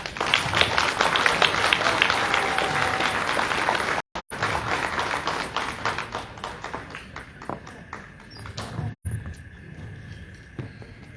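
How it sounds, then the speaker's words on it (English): Applause from a gala audience at the National A. Philip Randolph Pullman Porter Museum, steady and fairly loud at first, then thinning into scattered claps and fading toward the end, with brief breaks. "Another round of applause for David and Dr. Hughes."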